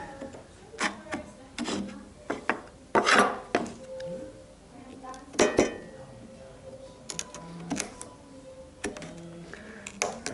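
A wood chisel twisting and snapping out waste from a housing joint, sharp cracks and knocks at irregular intervals with small scraping sounds between them, close by.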